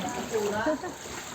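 People bail out knee-deep floodwater during a typhoon and high tide in Malabon, producing a few brief, close splashes and sloshes beneath ongoing talk.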